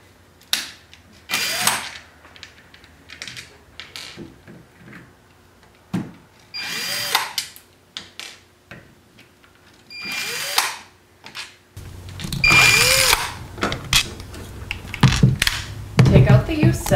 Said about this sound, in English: First, remove all screws.